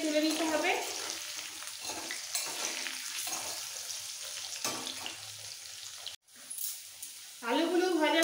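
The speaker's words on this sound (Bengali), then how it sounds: "আলুগুলোকেও লাল করে ভেজে তুলে নিতে হবে" Potato pieces frying in hot oil for pomfret fish curry give a close, continuous crackling sizzle that drops out for a moment near the end, while someone talks over the start and finish.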